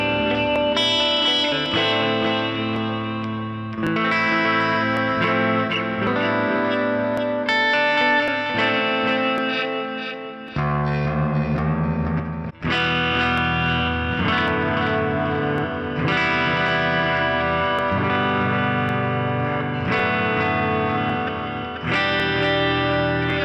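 An electric guitar with passive pickups played through a Line6 POD Farm amp-modelling preset, ringing out sustained chords and melodic notes with effects and reverb, loud and steady over about twenty seconds with one short break, and no voices.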